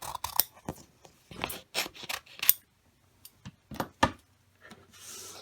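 Scissors snip through a sticker laid on holographic laminate, a series of close, crisp irregular cuts separated by short pauses, with a soft rustle of the sheet toward the end and no voices.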